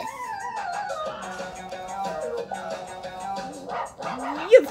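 A cartoon robot dog barks and yips in a series of voiced, whiny yelps that rise and fall, ending in a sharp louder bark; the barking sounds performed by a voice.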